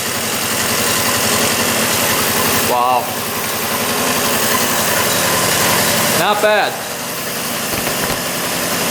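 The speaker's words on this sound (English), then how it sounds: "Just idling perfect." A moped engine idles steadily with a rapid, even putter at close range, briefly revving twice; someone speaks a few short words over it.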